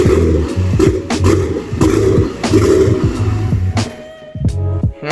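Nissan S14 fitted with an RB26DETT engine idling roughly under some throttle, its uneven revving pulsing loud and close for several seconds before the engine cuts off and goes quiet, with a brief sputter at the end.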